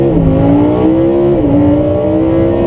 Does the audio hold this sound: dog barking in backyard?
no